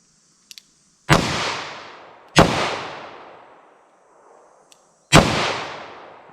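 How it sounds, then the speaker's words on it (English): A revolver fires Armscor 180 grain full metal jacket rounds, three sharp, loud shots at uneven intervals, each with a decaying echo tail, and a couple of faint clicks between them. "So let me load up some different ammo and see how it shoots."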